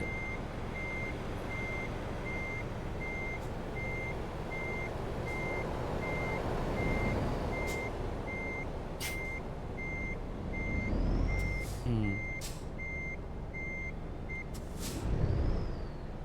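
A truck backing up in Euro Truck Simulator 2 sends out a long run of regular high-pitched reverse beeps above a constant engine drone, with a few short hissing air-brake bursts toward the end.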